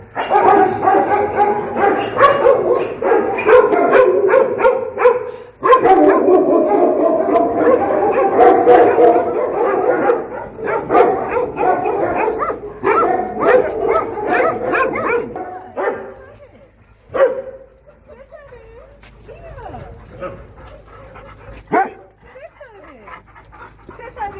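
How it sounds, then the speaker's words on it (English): Older dogs at Iran's first animal shelter, a chorus of panting, yips and barks close by, continuous for most of the stretch before thinning to scattered sounds, with a voice speaking over them. "This whole section is the older dogs."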